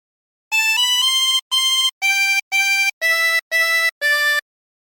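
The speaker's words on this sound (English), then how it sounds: "And practice this until you end up with something that sounds like this." A 24-hole tremolo harmonica plays a phrase of Turkey in the Straw: seven separate bright, reedy notes in a quick, bouncy rhythm, played alone and close up.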